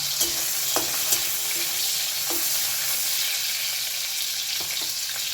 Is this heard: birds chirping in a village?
no